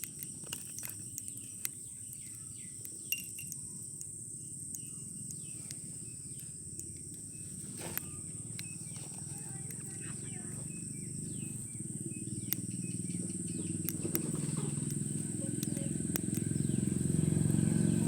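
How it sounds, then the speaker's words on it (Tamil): Mustard seeds splutter in hot oil for a tomato gravy, with sparse sharp pops and crackles scattered over a quiet background and a sizzle that swells louder toward the end. "கடுகு பொரிஞ்சிருச்சு."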